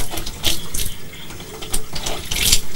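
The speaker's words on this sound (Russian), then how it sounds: "Вода в квартире Татьяны с утра бежит тонкой струйкой." A tap in a Yekaterinburg apartment runs in a thin, weak stream because of low water pressure. The close trickle splashes irregularly into the sink, with no talking.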